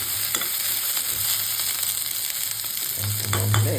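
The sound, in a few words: frying ripe chilies, tomatoes and onions in a pan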